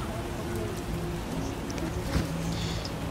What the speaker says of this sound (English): I get sad when it rains.